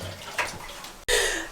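Water gushes from a tap during handwashing on a trek in Nepal, a close, steady splash that briefly cuts out and then surges back louder.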